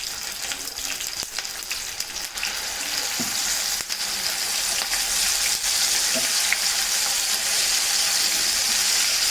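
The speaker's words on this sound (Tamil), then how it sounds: "இப்போ கடுகு வெடிச்சிட்டு போட்டுக்கலாம்." Mustard seeds popping in hot oil: steady sizzling with scattered sharp pops and crackles, close and fairly loud, no voices.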